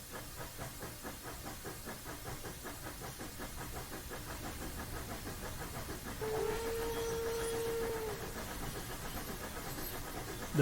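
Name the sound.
steam locomotive whistle in Train Simulator video game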